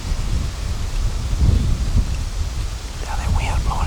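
Wind gusting down a creek at a deer hunting spot, a steady broadband rush and rumble with louder buffets midway, and a faint voice-like murmur near the end.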